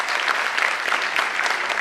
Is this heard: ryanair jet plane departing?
no